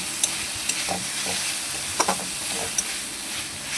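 Chopped tomato frying and being stirred into a ginger-garlic spice paste in a pan for a potato curry, with a steady close sizzle and a few sharp scrapes of the spoon.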